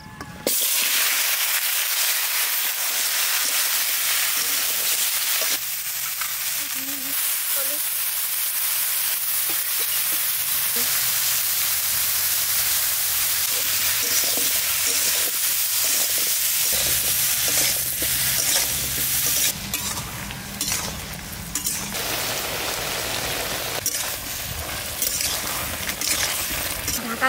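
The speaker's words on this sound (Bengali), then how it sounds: "কড়াইতে তেল রয়েছে, মাছ ভেজেছে, ওই তেলের মধ্যেই লাউটা দিয়ে দিচ্ছি।" Round green bottle gourd frying in the oil left from frying fish in a wok: a steady, loud, close hiss of sizzling with clattering stirs and shifts in intensity, and a little faint talk.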